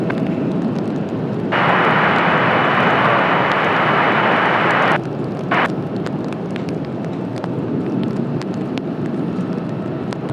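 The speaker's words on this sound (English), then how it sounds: "runway 30, clear for takeoff." Jet airliner departing runway 30 at Washington Dulles on a cloudy, rainy day, a broad loud roar swelling for a few seconds then cutting down to a softer distant rumble with wind noise.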